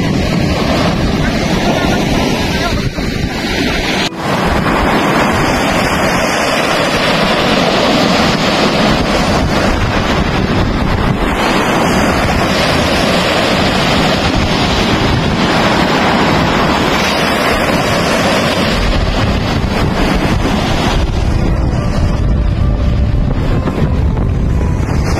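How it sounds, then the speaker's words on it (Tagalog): Ocean surf rolling onto a surfing beach at Liwliwa, San Felipe, Zambales, a loud, continuous broadband roar of breaking waves heard up close, heavily mixed with wind buffeting the microphone for the whole stretch, with no clear talk. "Ganda ng roll ng tubig."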